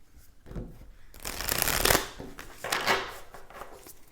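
Tarot cards shuffled and drawn during a card reading, a run of crisp riffling and flicking bursts that swell twice and fade, close and fairly quiet with no talking.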